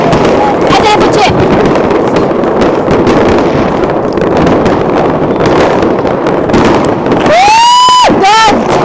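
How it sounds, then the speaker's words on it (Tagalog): Fireworks display over Copenhagen, Denmark: a dense, loud wash of crackling bursts and booms with heavy wind buffeting the microphone, whistling rockets rising near the end, and a crowd voice mixed in. "Lots of fireworks!"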